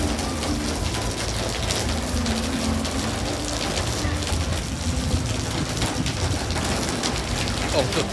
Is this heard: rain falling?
yes